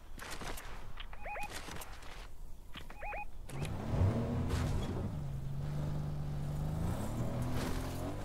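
A car in the video game Fortnite starts up about midway and runs with a steady, droning engine hum that shifts pitch as it drives. Brief electronic game blips come before it.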